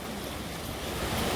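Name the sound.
waves and surf at Oceanside Beach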